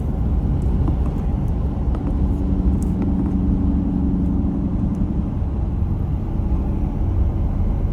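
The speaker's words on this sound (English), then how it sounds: "Gonna switch hands, downshift." Ford F250 6.7 diesel truck downshifting, heard as a steady, loud low-frequency engine rumble from inside the cab with a slight tonal shift around the middle, no talking.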